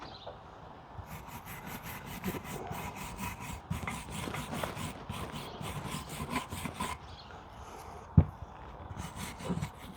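A wire brush scrubs rust off a Jeep Wrangler JK brake caliper in quick, repeated rasping strokes, close and moderately loud, with a sharp metallic knock partway through.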